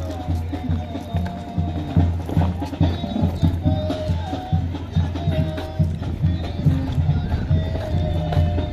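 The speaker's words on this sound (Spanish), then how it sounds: "Andan los caballos bailando, mira." Horses dance at a ranch fair during an ejido anniversary celebration, their hooves clip-clopping steadily under loud rhythmic music and a busy crowd, with voices around.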